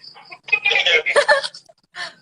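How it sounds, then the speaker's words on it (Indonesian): Bird calls, likely a chicken or rooster clucking, come in several short bursts at close range, with a faint voice in the background. "Ada suara burung."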